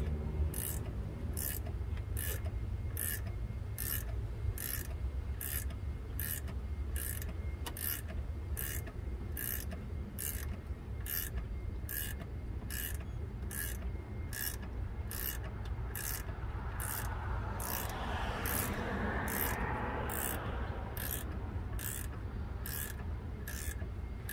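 A hand ratchet works a bolt loose on the 5.3-liter V8 engine of a 2004 Chevy Trailblazer during a water pump job, a steady run of sharp, evenly spaced clicks over continuous mechanical background noise, close and without speech.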